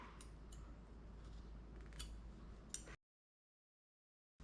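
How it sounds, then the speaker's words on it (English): Scissors snip through red yarn close by during crochet work, a brief crisp cut amid soft handling rustle, followed by silence. "I'm going to go ahead and cut it there."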